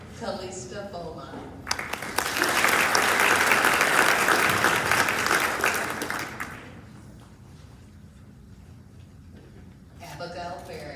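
At a graduation convocation, a speaker's voice gives way to a long swell of crowd applause that peaks and gradually fades, followed by quiet and then speech again.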